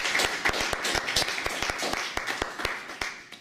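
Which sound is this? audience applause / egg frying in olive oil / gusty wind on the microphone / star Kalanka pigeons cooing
audience applause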